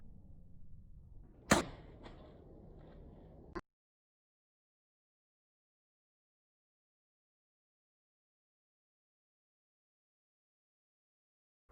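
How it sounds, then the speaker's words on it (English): A bag holding an egg drops from a balcony about 10 meters high and hits the ground with one sharp smash, a few faint rustles follow, then silence. "The large smash sound made me fear the worst"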